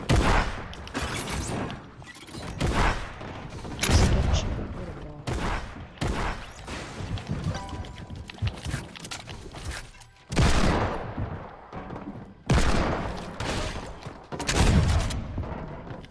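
Rapid gunfire and heavy explosive blasts from an RPG in a first-person shooter video game, loud repeated bursts and booms throughout, with players talking over the action.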